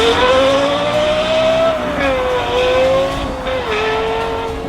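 Lexus LFA with a Yamaha 4.8-litre V10 revving high, a loud, sustained, shrill engine wail that rises and dips slightly in pitch between shifts, heard close and alone.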